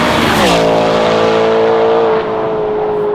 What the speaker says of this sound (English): I personally love the E90 platform and love the sound that it makes